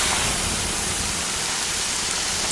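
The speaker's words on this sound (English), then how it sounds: "The sound of water being poured on 800-degree rocks." Water poured onto sauna rocks heated to 800 degrees hisses in a loud, continuous steam sizzle that holds steady throughout.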